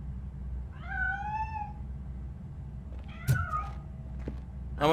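A cat meows in the video game RoboCop: Rogue City, two clear drawn-out meows with rising and falling pitch, the second followed by a short sharper call, heard fairly close over a low steady background hum.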